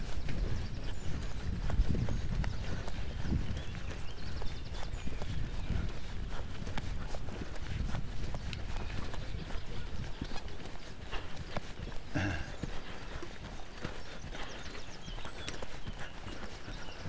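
A horse walks and trots along the fence of a riding arena, hooves clip-clopping in a steady continuous rhythm over a noisy background, moderately close.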